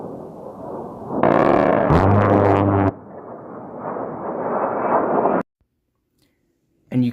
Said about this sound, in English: I'll show a footage of the A10 Warthog firing.